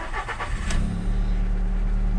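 A 2011 SEAT Ibiza engine cranks with a few quick starter turns, catches, then settles into a steady, loud, low idle rumble.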